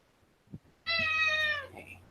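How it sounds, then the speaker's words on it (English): A single cat gives one clear, drawn-out meow, close and fairly loud, after a quiet moment. "Do you name all 14 of these cats?"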